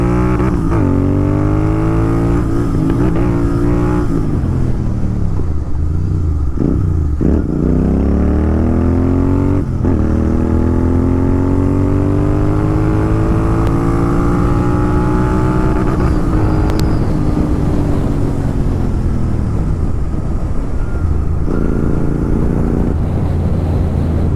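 Royal Enfield Continental GT 650 motorcycle with Red Rooster exhausts, loud continuous engine drone rising and falling through gear shifts and revs while riding, close and steady.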